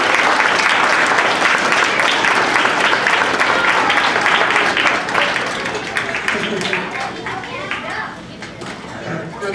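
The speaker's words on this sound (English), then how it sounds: "Let's give her a round of applause" Loud, dense audience applause at a youth event, many hands clapping with cheering voices mixed in, gradually easing off toward the end.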